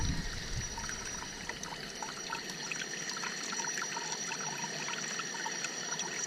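Water streams steadily from a Zodi camp shower heated by a dual burner, a continuous close hiss and splatter with no talking.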